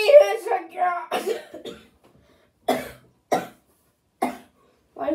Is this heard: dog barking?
no